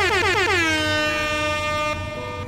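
Air horn sound effect blasting during an iRacing stream of a Long Beach Grand Prix run, a single loud sustained honk with a quick pitch swoop at the start, then holding steady and bright until it cuts off.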